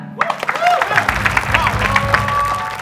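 A small group claps in a brief burst of applause while voices chatter over it.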